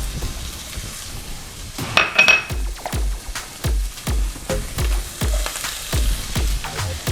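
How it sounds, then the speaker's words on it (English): Red onions hit a hot pan and sizzle, with a steady frying hiss broken by repeated sharp knocks and clinks of a utensil stirring against the pan in a regular rhythm, close and fairly loud. "I'm just gonna get ready to toss some red onions in here"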